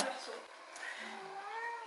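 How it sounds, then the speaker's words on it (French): A male cat yowls and calls for a female indoors, drawn-out wavering meows rising and falling over about two seconds, fairly close and clear, with no talk over it. "Là nous avons un chat qui cherche sa femelle."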